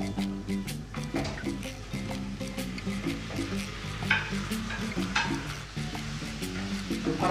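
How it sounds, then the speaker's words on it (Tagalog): Onion and garlic sautéing with ribs in a pan, a steady low sizzle with repeated scraping and stirring clatters of a utensil against the pan throughout, no talking. "Parang gisa muna natin yung sibuyas at bawang."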